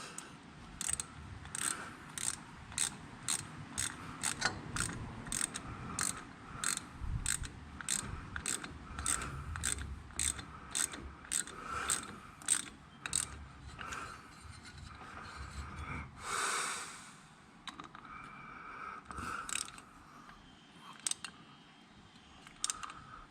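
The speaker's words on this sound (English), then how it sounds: "gotta get a wrench to tighten that." Wrench tightening a part on a zero turn mower that will not move, a steady series of sharp ratcheting clicks at an even rhythm, close and distinct, followed by a short scraping shift and a few slower clicks.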